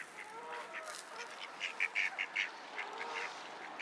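A group of ducks near a pier gives a run of faint, nasal quacks and honks, clustering into a burst of calls in the middle.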